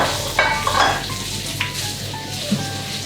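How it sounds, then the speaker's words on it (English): Asparagus sizzles in a hot pan for pasta primavera: a close, steady frying hiss with a few soft clicks and stirring touches, no voices. "So I can hear everything starting to sizzle"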